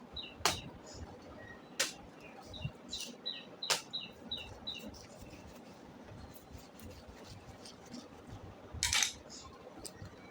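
A knife slices through a pineapple in a few sharp, crisp cuts and scrapes, close by, with birds chirping in the background.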